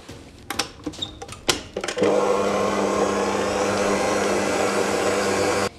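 Several clattering knocks and taps at first, then an electric mixer starts and runs loud and steady, whipping cream with thick condensed milk and pieces of butter.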